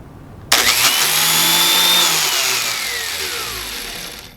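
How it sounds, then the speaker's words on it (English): A valve seat grinder spins a diamond stone against a 427 tall deck engine's valve seat, starting abruptly with a whining motor hum and a high grinding tone that slowly falls away, close and steady. "And you're going to set that diamond stone up against it, just so it makes contact. Put on your grinder."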